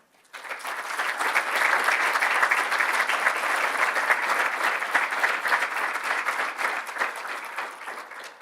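Sustained applause from an audience at an awards presentation honoring scholar recipients, a dense, even wash of many hands clapping that starts abruptly, holds steady for several seconds and tapers off at the end.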